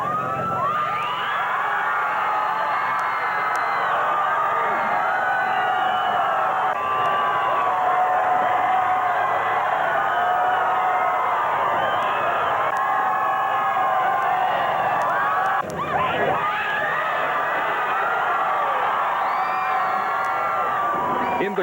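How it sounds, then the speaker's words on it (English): A huge Boston crowd cheering and screaming at a celebration for the Cheers finale, a loud, continuous roar of voices that holds steady throughout with a brief dip near the end. "They stood for hours, cheering, screaming, and celebrating."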